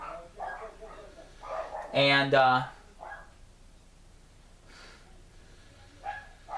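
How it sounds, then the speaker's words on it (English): Dogs bark briefly a few times outdoors in the background, a short burst of yaps between stretches of someone talking. "Just want to apologize if you hear my dogs barking in the background."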